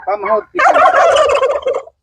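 Giant-breed turkeys on a large farm gobble loudly and close by, one short call followed by a longer rippling gobble chorus, with no talking.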